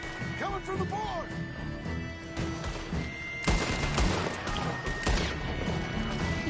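Gunfire in the video game Red Dead Redemption II, with scattered sharp shots and crashing impacts over a busy background, while voices talk over much of the action.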